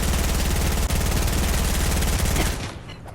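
Continuous rapid automatic gunfire in a video game during a doomsday event, a dense, loud burst lasting a couple of seconds before cutting off and fading.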